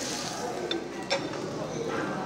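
A scallion pancake is reheated in a pan, with a steady, low sizzle of frying and a couple of soft clicks as it is stirred and flipped.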